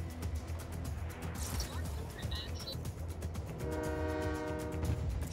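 A train in the video game Just Cause rumbles steadily with a horn-like tonal blast rising near the end, all set under ongoing talk.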